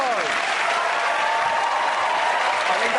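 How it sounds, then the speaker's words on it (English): Studio audience at a television comedy panel show breaking into sustained applause, dense and even throughout, with no voices over it. "And Laurie, give everyone a round of applause."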